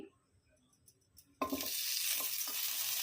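A spoonful of ghee suddenly hits a hot pan and bursts into a loud, steady sizzle after a quiet start, with a couple of faint scrapes along the way.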